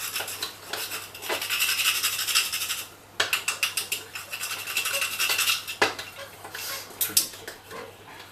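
A spoon stirring pumpkin pie filling in a bowl, close rapid clinking and scraping in repeated bursts with short pauses between strokes, no talking.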